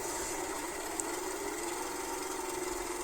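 A school bus engine idles steadily in the Blue Bird Buses game, a constant low mechanical drone with a rough, tractor-like chug, moderately loud and alone with no talk.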